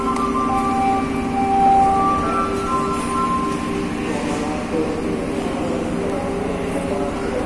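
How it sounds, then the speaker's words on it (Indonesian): The Rajabasa passenger train pulls into Tanjung Karang station at its final stop, a steady rumbling wash of rail noise with faint metallic clinks and tones, while someone talks over it. "pukul 17:06 kereta api Raja Basa sudah tiba di tujuan akhir stasiun Tanjung Karang"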